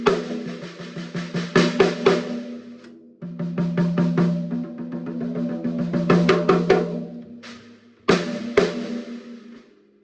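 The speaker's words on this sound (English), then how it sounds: "That gives you an idea of what the snare drum sounds like" A 2018 Ludwig Black Beauty 6.5x14 snare drum with tightly tuned heads is struck in loud, close, heavily compressed hits and quick patterns, pausing briefly before a final few strokes.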